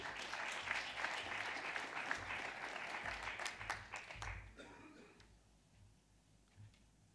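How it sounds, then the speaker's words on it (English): An audience claps at the Green Solutions Awards ceremony in Bonn, with sustained applause that fades out near the end, leaving a quiet room. "So come please, and we can applaud you."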